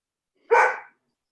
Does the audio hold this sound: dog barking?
yes